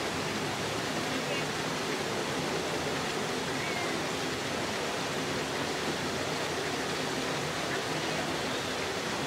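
Heavy cold water pours steadily down into a plunge pool, a dense continuous rushing roar that stays loud and even throughout with no other sounds standing out.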